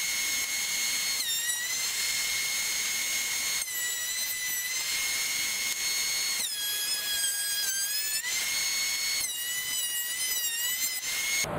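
A DeWalt planer flattens a wooden workpiece with a loud, continuous high whine, its pitch shifting as each pass cuts and the wood feeds through, with no talking.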